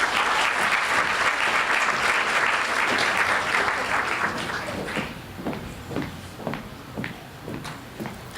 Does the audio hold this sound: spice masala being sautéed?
no